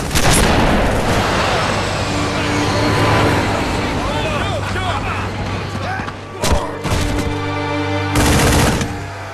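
Dense gunfire in a Halo Wars game cutscene, sustained rapid bursts with heavy booms and explosions, loud and close, with shouting voices mixed in throughout.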